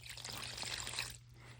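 Water is poured onto flour in a bowl to mix dough for a home kitchen routine, a soft continuous trickle lasting about a second before it tapers off, heard without speech.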